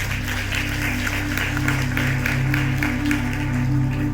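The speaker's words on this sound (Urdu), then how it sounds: "شاباش شاباش, تالیاں بجائے اس بیٹی کے لیے" A congregation at a Sunday church service claps for a girl, making a steady, fairly loud patter of many hands that goes on without a break over a constant electrical hum from the sound system.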